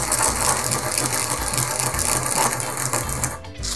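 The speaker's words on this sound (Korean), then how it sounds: "가지가 식을 동안에 참깨를 1숟가락 넣고 갈아주세요." A small grinder grinds a spoonful of sesame seeds in a kitchen, giving a steady, close, loud mechanical whirring and rattling that runs without pause and eases off at the very end.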